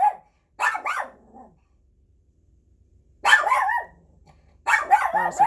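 A nearby dog lets out a few loud barks in separated bursts, with a long quiet gap between them.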